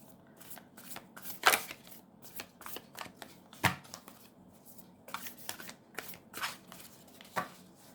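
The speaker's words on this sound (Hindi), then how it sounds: "नहीं, एक सेकेंड, फिर से शफल करते हैं हम।" Tarot cards are shuffled close by in a quiet room: bursts of riffling flutter and crisp snaps, some sharp slaps, irregularly spaced across several seconds with short pauses between.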